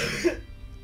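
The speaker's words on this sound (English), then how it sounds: "I'm sorry about that coughing." A single short cough, loud and close, over in a fraction of a second and followed by near quiet.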